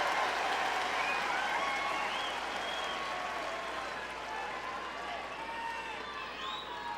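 A tennis crowd at a final involving Roger Federer breaks into sustained applause. The clapping is dense and rolling, filling a large stadium, and slowly eases in loudness over several seconds.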